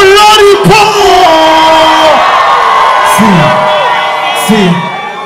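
A live concert crowd at an Afrobeats performance cheers and whoops loudly while an amplified voice shouts over them and calls out several times, then the noise fades slightly.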